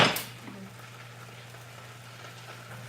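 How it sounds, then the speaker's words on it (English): Rice frying in a pan with meat, potatoes and chile gives a steady, close sizzle that starts with a brief louder burst and then settles into an even hiss. "The rice is frying."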